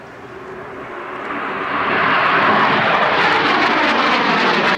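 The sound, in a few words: Battle of Britain Memorial Flight Spitfire flying at air show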